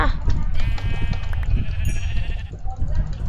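Sheep bleat in the video game Minecraft during a survival playthrough: wavering, nasal bleats that repeat across the moment, under and between lively talk from players.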